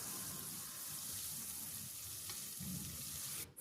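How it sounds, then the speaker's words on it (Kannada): Onions fry in a pan for a fenugreek-leaf biryani, giving off a faint, steady sizzle and crackle with a soft stirring sound near the end. "ಇಲ್ಲಿ ಮೇಯ್ನ್ ಇಂಪಾರ್ಟೆಂಟು ನಾವು ಈರುಳ್ಳಿ ಫ್ರೈ ಮಾಡ್ಕೊಳ್ಳೋದೇ ಆಗಿರುತ್ತೆ"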